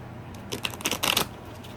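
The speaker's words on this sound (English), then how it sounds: "I'm just going to shuffle 3 times" Oracle cards being shuffled in a quick burst of soft riffling and flicking, close up, with a brief pause between flurries and no talking.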